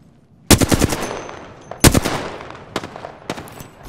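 Automatic gunfire from the Apex Legends video game rattles in loud, close bursts, two long volleys followed by a few shorter ones, with no talk.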